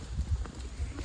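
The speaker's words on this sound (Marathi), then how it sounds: "घोडे की सवारी, घोडे की सवारी" A horse carrying a rider on the Matheran hill trail thuds out a quick run of soft, muffled hoof clops, close by and fairly quiet, with no talking over them.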